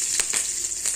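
Green chillies dropped into hot oil in a pan with bay leaf, dried chilli and cumin tempering, a loud close hiss with a few quick crackling bursts over about a second.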